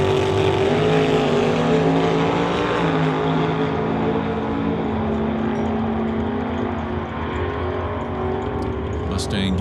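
A 1967 Mustang with a 632 cubic inch Ford engine drag races a big block Chevy at a summit ET bracket event, a loud sustained engine roar with shifting pitch under an announcer's voice.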